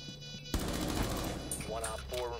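Rapid bursts of gunfire in Rainbow Six Siege ring out in a tense round, loud and sustained with sharp cracks, while players talk over the shooting.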